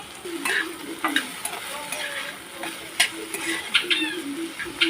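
Finely chopped okra and onions sizzle and crackle in a hot pan, with scraping stirs and clinks throughout, close and fairly loud.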